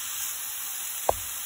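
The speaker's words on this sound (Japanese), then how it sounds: "そしたらまた片面をひっくり返して焼いていきます。" A steak sears in a frying pan over medium heat with onions, giving a steady, close, bright sizzle throughout and one brief knock near the end, with no speech.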